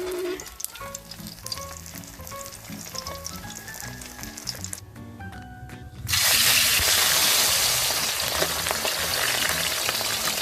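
Loud, steady sizzling of mackerel frying in hot oil in a pan erupts partway through, following quieter kitchen clatter and stirring sounds nearby.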